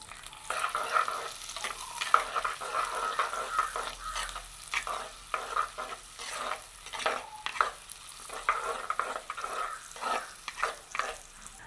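Onions, garlic and green chilies with fenugreek seeds frying in hot oil, a spoon stirring through them in repeated scrapes over a steady soft sizzle, close and moderately loud, with no voices.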